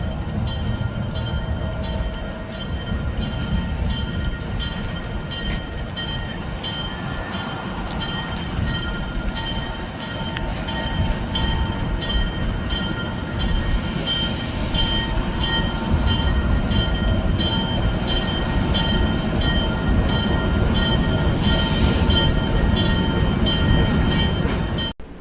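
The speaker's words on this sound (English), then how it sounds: "Here comes the scenic train." The Mt. Rainier Scenic Railroad train arrives with a steady, loud rolling rumble of wheels and cars that builds slightly toward the end, with a brief faint horn-like tone partway through.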